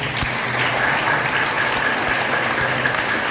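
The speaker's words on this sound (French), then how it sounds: "Et je vous demande de les applaudir," Audience applause at a school ceremony, dense, loud and steady clapping from a crowd that continues unbroken from start to finish, with no voices standing out.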